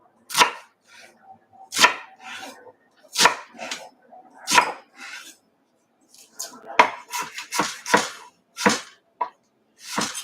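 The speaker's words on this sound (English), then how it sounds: "so we're chopping our onion." A knife chops an onion on a cutting board in sharp, separate knocks, slow and spaced at first, then quicker bursts, close and clear with nothing else around.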